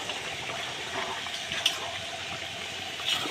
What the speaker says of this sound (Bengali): এই এখন আমি এর ভিতরে জল দিয়ে দেবো।